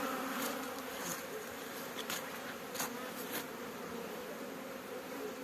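Honeybees fly around beehives in an apiary, making a steady, dense buzz with several louder passes as bees fly close by.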